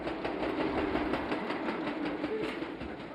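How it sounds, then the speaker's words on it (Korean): An overhead catenary installation work train arrives at Yeosu station on Korea's Jeolla line. A low, steady rumble of the rail vehicle runs throughout with faint rhythmic clatter; it is fairly quiet and somewhat distant, with no voices. "열차에 동력을 공급해주는 전차선 설치 작업 전동차가 들어오고 있다."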